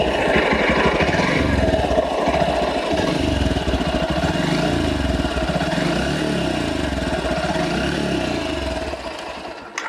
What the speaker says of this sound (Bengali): এছাড়া বাইকটার একজস্ট, এর যে সাউন্ড, এর যে বেস, একটু শোনাই